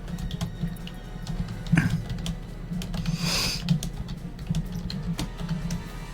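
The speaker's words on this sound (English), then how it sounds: "He's got to do so much typing." Fingers type on a computer keyboard in a quick, irregular patter of close key clicks, with a few louder strokes and a brief soft rustle partway through.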